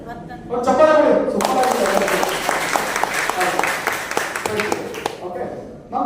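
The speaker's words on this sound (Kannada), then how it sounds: "ಓಕೆ, ಒಂದು ಚಪ್ಪಾಳೆ ಕೊಡಿ." Audience applause bursts in after a spoken prompt at an energy-healing workshop, a dense crowd of clapping hands sustained for several seconds before fading, with a voice speaking at the start and end.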